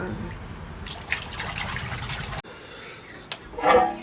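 Pieces of hilsa fish being rinsed in water, with splashing and dribbling that stops briefly partway through. A short burst of sloshing follows, fairly close and at moderate level, with no talk over it.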